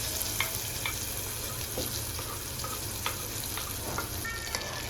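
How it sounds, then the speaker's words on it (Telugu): Hot oil tempering is stirred into mango chutney, giving a steady close sizzle and frying hiss with a few faint clinks and no talk. "తాలింపు దీంట్లో వేస్తున్నాను"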